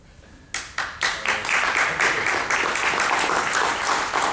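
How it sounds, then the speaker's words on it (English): An audience at a political town-hall event in Danbury, Connecticut breaks into applause, starting with a few sharp claps that quickly build into sustained, dense clapping from a crowd. "that's the first applause I've had in a while"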